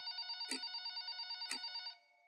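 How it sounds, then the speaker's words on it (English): A telephone bell rings with a rapid trilling tone, two clear bursts, then stops abruptly, fairly close and alone. "my monitor lit up my cubicle and my phone started ringing"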